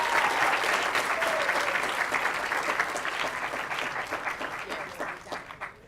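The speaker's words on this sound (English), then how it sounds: "But let's give him one more huge round of applause." An audience at an ocean conservation talk claps for the speaker Sean, a full round of applause that starts loud and gradually thins and fades toward the end.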